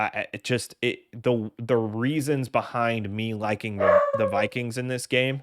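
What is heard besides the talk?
dog barking in the background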